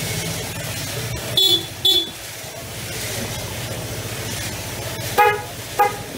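Two pairs of short Honda PCX scooter horn toots over a running engine idle, each a quick double beep, loud and close.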